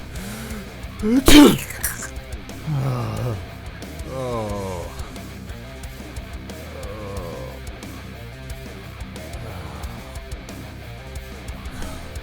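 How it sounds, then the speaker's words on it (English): One loud, sharp sneeze comes from a person wearing a face mask, close by, followed by several seconds of quieter rustling and low background noise. "it's really not fun sneezing in this mask"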